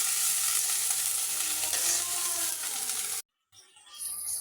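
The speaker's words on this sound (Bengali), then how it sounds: "এখানে এখন আমি মশলাটাও একটু কষিয়ে নেব" A pan of meat bones, potatoes and ground spice paste sizzles and fries steadily at close range for about three seconds, then cuts out abruptly before faint clatter and sizzling resume.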